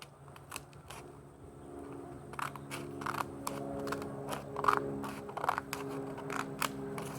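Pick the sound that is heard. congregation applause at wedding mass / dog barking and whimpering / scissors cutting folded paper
scissors cutting folded paper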